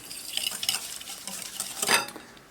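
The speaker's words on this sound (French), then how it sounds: "je casse un œuf, je le mets dans le saladier, on met le sucre cassonade et on fouette" Egg whisked with brown sugar in a mixing bowl, a quick run of scraping, stirring strokes close by with one louder swish near the end, no voices.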